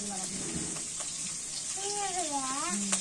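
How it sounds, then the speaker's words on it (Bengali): Onions sizzling in hot oil during home cooking for Pohela Boishakh, the Bengali new year: a steady, close frying hiss runs throughout, with a wavering voice-like tone rising over it near the end. "তেলের মধ্যে পেঁয়াজ দিয়ে দিই।"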